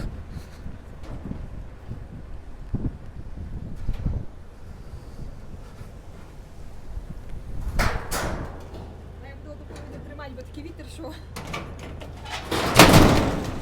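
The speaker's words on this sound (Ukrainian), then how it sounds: "відкрию двері, такий сквозняк" A door is opened on a drafty day in a farm setting, giving a few thumps and a sharp rattling bang near the end, with wind buffeting the microphone.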